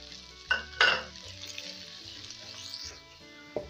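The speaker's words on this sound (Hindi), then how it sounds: "तली हुई 1 कप प्याज।" Onions sizzle and fry in hot ghee, with a couple of sharp clatters from stirring early on and a soft steady hiss throughout.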